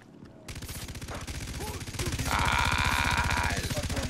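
Rapid rifle fire in the Far Cry 3 video game, a dense, steady stream of loud shots that starts half a second in and keeps going, with a second weapon joining midway.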